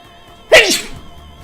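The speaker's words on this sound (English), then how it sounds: "I'm gonna sneeze." One loud, sudden sneeze close by, a sharp burst that trails off quickly into quiet.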